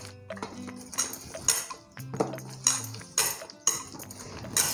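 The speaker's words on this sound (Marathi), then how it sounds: "त्याच्यात साखरेचा पाक टाकायचा. तेही चांगलं फेटून घ्यायचं." Eggless cake batter with sugar syrup whisked in a bowl, a close run of repeated clinking and scraping strokes against the bowl, loud and uneven in rhythm.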